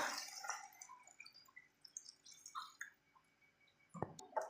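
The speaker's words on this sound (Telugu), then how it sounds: "మనం వాటర్ పోసేసుకుందాము" Water goes into a pan of sautéed vegetables for a vegetable ragi soup, quiet trickles and sparse drips, then a louder brief splash near the end, with no talking.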